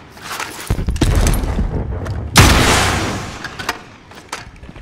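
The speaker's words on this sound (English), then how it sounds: "Launching rocket." A rocket launch in the video game Call of Duty: Warzone, a loud booming blast that surges suddenly midway and trails into a rumbling roar, preceded by thudding gunfire-like bursts, with no talk over it.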